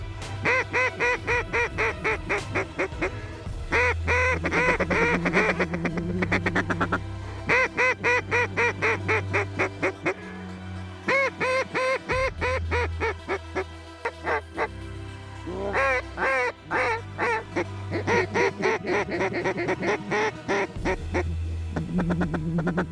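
Mallard ducks quacking in bottomland timber, a dense, continuous chorus of loud, rapid overlapping quacks and calls close by, alone without talk.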